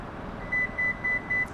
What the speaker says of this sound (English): Listening for those 4 beeps.